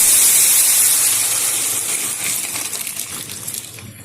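Red lentils (masoor dal) hit hot tempering in a pan and burst into a loud, bright sizzle that slowly subsides over about four seconds, crackling and hissing with no voices.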